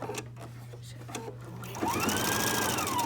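A sewing machine runs a steady straight stitch for fabric binding, its even whirring hum starting after a moment of quieter mechanical ticking and continuing loud and close to the end.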